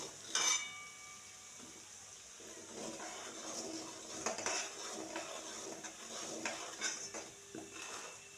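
Onion-spice masala frying in a pan, with a soft steady sizzle under repeated clinks and scrapes of a spoon stirring against the metal, close and fairly quiet.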